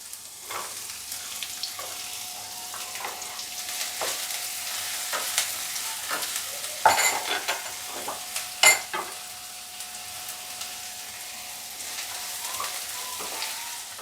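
Onion and garlic fry in a pan for sweet corn soup, a quiet, steady sizzle broken by intermittent spatula scrapes and a couple of sharper clanks near the middle.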